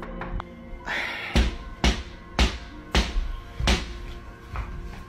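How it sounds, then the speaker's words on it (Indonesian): Knocking on the back door of a house: a series of five or six sharp, heavy thuds at a slow, uneven rhythm, close and fairly loud, following a few fainter taps. "Lalu terdengar suara ketukan dari pintu belakang."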